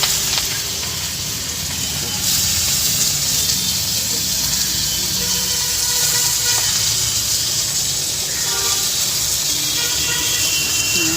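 Black cumin seeds and cardamom pods sizzling in hot oil, a steady, bright hiss that holds at an even level throughout, with no talking.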